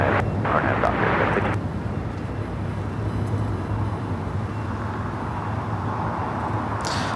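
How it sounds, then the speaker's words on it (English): A Boeing 747-400 Air China Cargo freighter takes off at Los Angeles airport, a broad continuous engine roar heard from a distance, with a person talking over it. "Air China Cargo flight 8420 heading to Shanghai. It's a 747-400."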